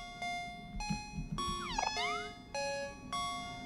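A cat meows in the video game OMORI, a short series of electronic-sounding meows with a falling and rising tone in the middle, clear and alone over faint game background sounds.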